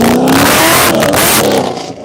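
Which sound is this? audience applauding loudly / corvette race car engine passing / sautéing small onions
corvette race car engine passing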